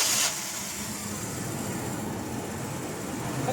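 A Toyota Revo VX200 with an idle fault is started and settles into a steady, close idle, its engine running in an even drone with no break.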